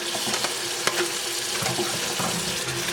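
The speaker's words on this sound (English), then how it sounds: "So make sure you're giving your fruit a really good wash." Tap water runs steadily over fresh blueberries and other fruit in a kitchen sink, a continuous rushing splash with a few brief clatters, close and fairly loud, no talking.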